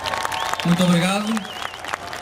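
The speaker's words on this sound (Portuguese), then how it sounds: "Obrigado por vossas palmas." Audience applause after a fandango performance at a Portugal Day folk event in Toronto, a steady wash of clapping heard under someone speaking and a sustained singing or whistling tone.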